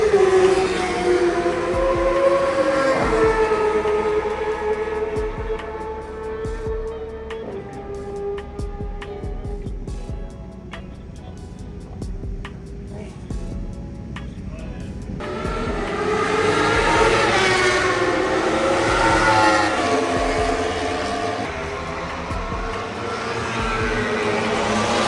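Motorcycles, mostly Ducatis, ride past on a race track during a track day, with loud engine notes rising and falling in pitch as bikes approach and recede, then a quieter lull before more machines roar through.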